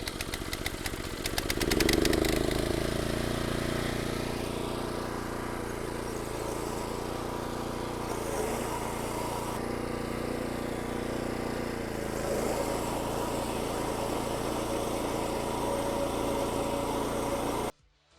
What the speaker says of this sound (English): I'm going to finish cutting the lawn